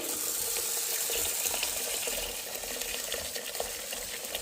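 Hot water pours steadily from a kettle into a pressure cooker, a continuous soft splashing trickle heard close and fairly quiet.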